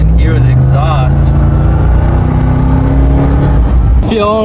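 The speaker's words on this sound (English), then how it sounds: "Opening that window makes a huge difference. You can hear the exhaust." A Ram 1500 TRX truck's exhaust booms loud and close from inside the cab with the rear window open, a heavy low rumble that climbs steadily under acceleration while a voice talks over it.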